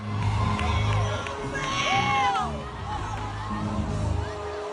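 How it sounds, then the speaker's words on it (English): Wedding guests in a remote village cheering, whooping and laughing in a lively, loud crowd, with voices shouting and babbling over one another throughout. "guests around them clapped, laughed, and cheered as if it were part of the ceremony"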